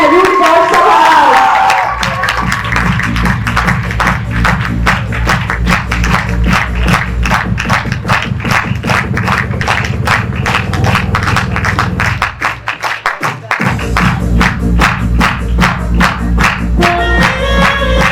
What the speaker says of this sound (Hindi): آپ سب کی بھرپور تالیوں میں پاسٹر حبیب جارج صاحب